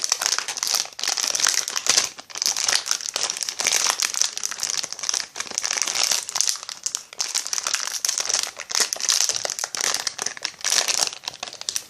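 Crinkly plastic packaging of a My Little Pony toy being torn and crumpled open by hand, a dense continuous rustling and crackling close up, lasting throughout without pause.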